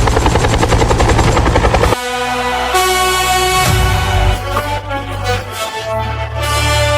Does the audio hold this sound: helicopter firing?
yes